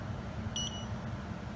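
An SGC01 smart Wi-Fi garage door opener gives a quick double confirmation beep, two short high chirps close together over a steady low room hum.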